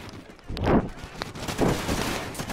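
Bursts of gunfire in the video game Call of Duty: Ghosts, two short, dense rattling volleys close together over a busy game background.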